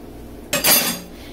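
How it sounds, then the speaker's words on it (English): A spoon scraping pizza sauce across a mini pizza base, one short bright metallic scrape of about half a second, close and alone. "And then I use the back of my spoon to spread it around."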